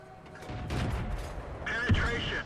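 Tank cannon shots in a World of Tanks–style game, a light tank trading fire with a StuG, heard as booming blasts under steady speech with a sharp loud shot near the end.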